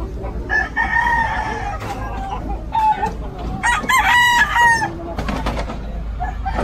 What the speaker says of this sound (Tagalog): Ginawa pala tong farm ng mga manok.